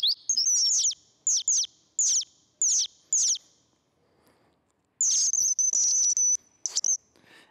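Bird calls and songs: a rapid series of sharp high chirps in short bursts, then a pause, followed by a longer run of trilling whistled song, clear and fairly close against quiet.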